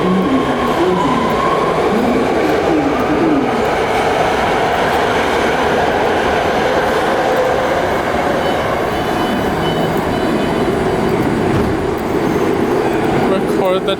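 A BART yellow line train to San Francisco International Airport rumbles steadily from inside the car, a constant loud roar of wheels and motor with faint squeals, heard at night between Powell and San Bruno.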